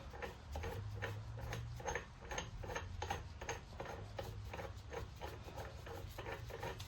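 A ratchet tightens a bolt on the flywheel of a Can-Am 1000R ATV engine, making quiet, regular rhythmic clicks in repeated strokes close by, with no talking.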